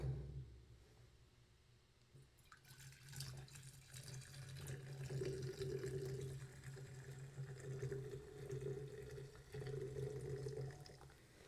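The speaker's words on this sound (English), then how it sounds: "let's give this a pour into the fancy glass." Sting Berry Blast energy drink pouring steadily from a bottle into a glass, a soft continuous splashing that rises slightly as the glass fills.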